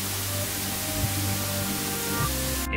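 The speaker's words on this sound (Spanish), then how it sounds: "escuchaba ruido blanco. Ya saben, aquel que suena como estática" Loud white-noise static from a frozen Fortnite game, a dense steady hiss spread across the whole range, cutting off abruptly at the very end.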